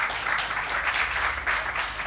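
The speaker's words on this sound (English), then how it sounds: "So just a round of applause there for Ben." Audience applause for Ben Kingdon, head chef at the Cary Arms in Babbacombe, at a TorqEat food event: steady, fairly close clapping from a crowd, sustained and even for a couple of seconds with a low rumble underneath.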